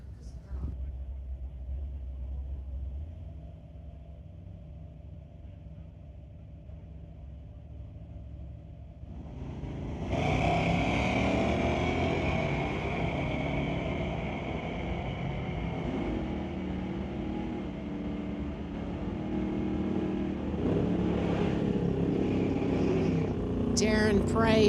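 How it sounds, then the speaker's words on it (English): A 1989 Ford Mustang and a 1987 Chevy S10 at a drag race: a low engine rumble idles first, then a loud, sustained roar of revving engines bursts in about ten seconds along and carries on to the end. "Darren in the 1989 Ford Mustang, And Karen racing her 1987 Chevy S10."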